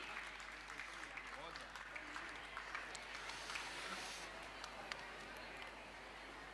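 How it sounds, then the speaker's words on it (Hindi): Audience applauding at a Jain religious gathering in Bhopal, a faint, steady patter of clapping heard from a distance, with a low background hum and a few sharper claps standing out. "एक बार जोरदार तालियां आमंत्रित हैं डॉक्टर साहब।"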